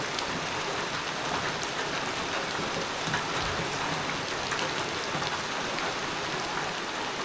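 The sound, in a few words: heavy rain falling on a rural Lao village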